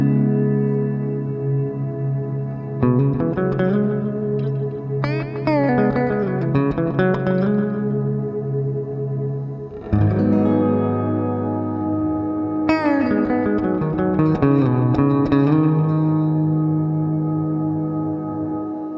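An electric guitar plays through a Collider delay and reverb pedal, with a frozen, sustained reverb drone held underneath while new notes and chords ring on top with repeating delay echoes, loud and close throughout.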